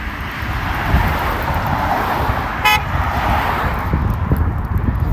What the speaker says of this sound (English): I just had someone else that honked at me.